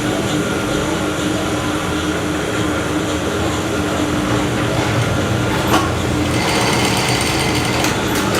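A sewing machine stitching a fabric pouch, running as a steady loud mechanical whir with rapid needle chatter for the whole stretch, no talking.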